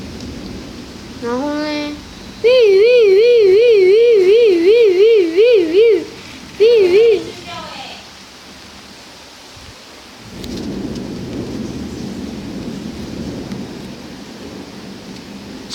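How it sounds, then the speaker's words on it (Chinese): Heavy rain and a thunderstorm: a loud wailing siren-like tone rises and falls early on, then a low rumbling roar of storm noise and rain builds and holds, with a brief spoken question. "在这狂风暴雨中"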